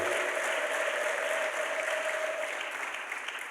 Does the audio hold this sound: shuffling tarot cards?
no